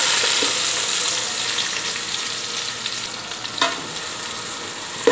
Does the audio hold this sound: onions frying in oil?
yes